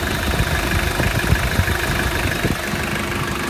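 A Mitsubishi Shogun 2.8 TD diesel engine idles smoothly and evenly up close, a steady low rumble with light vibration and no talk.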